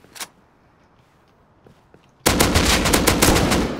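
Gunfire in the survival game Rust erupts suddenly after a quiet stretch with faint footsteps, a loud rapid burst of automatic shots that continues to the end.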